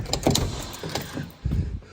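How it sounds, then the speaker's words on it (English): The cab door of a Scania 144G truck, once green and now painted black, is opened with a few mechanical clunks and a latch thud, close and fairly loud. "Opening the door on this unit, it used to be green."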